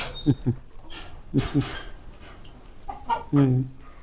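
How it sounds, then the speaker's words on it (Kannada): Farm chickens give short bursts of clucking, nearby and moderately loud in several separate groups, with a longer squawk at the end. "ಸರ್ ಇದು ಕೋಳಿ"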